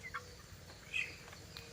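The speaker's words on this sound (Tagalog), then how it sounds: "Yan ang ating manok, mga idol, no?" Chickens in a backyard coop in a rural Philippine province, with a couple of short, faint clucks and calls over steady low background noise.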